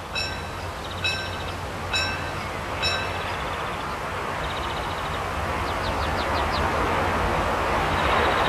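Steam locomotive 34027 on the Welsh Marches in 1992, heard as a steady, loud rolling rumble of the passing train, with a few brief high whistling chirps early on and more later.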